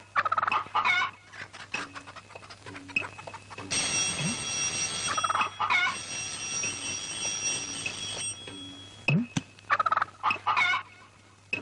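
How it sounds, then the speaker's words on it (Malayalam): Poultry cluck and gobble in repeated bursts, close and fairly loud, with a steady buzzing tone running through the middle stretch. "ഓ കോഴിയാണല്ലേ"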